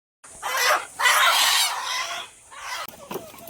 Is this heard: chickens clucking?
yes